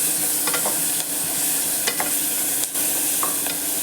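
Onion sizzles steadily in hot oil in a pan with ginger and garlic for a vegetable kurma, heard close up and alone, with a few soft scrapes of stirring.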